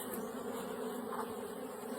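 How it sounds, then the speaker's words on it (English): Dense, continuous buzzing of many bees inside an open beehive, steady and close with no breaks and no voices. "That's a bee being born."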